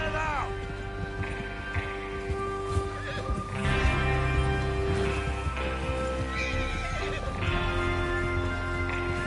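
Horses whinny and neigh in a Western outlaw scene from the video game Red Dead Redemption 2, with clip-clopping hooves and movement under a steady ambient bed, and a voice briefly audible.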